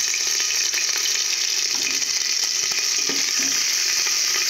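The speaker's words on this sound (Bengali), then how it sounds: "একে ভালো করে ভেজে নেব।" Cinnamon, cardamom, bay leaf, dried chili and ginger fry in hot oil for a Basanti polao, giving a continuous bright sizzle with small crackles and scraping stirs throughout.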